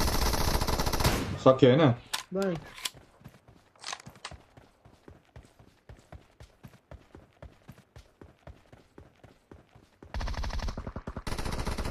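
Rapid bursts of machine gun fire in a team-based online shooter, a loud spray early on and then a long run of evenly spaced single shots, with players talking over the opening seconds.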